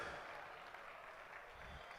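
Steady applause fills a large ceremony hall at a civil service week celebration and awards ceremony, a dense wash of clapping that holds evenly and fairly quietly for two seconds.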